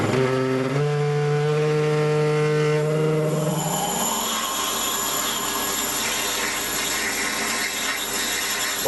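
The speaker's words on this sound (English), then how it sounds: "See if we can drill it through and then just a light bore." A small lathe or drill works through the chimney of a Mamod TE1 model steam engine, a steady loud machine whine with rising pitch tones at first, then a broad continuous rushing grind.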